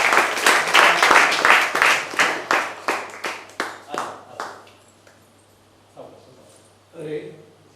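Audience applause at a felicitation during a Dashavtar drama staged in Surla, Goa: a run of rhythmic hand claps that slows and fades over about five seconds, then brief talk.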